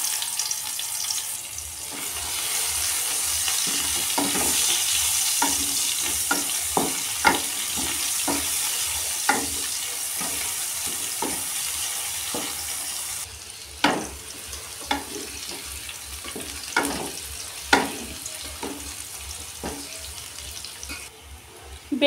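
Chopped onion with bay leaf, dried chilli, cumin, five-spice and turmeric sizzling in hot oil, a continuous close hiss broken by repeated sharp clinks of a spatula stirring the pan.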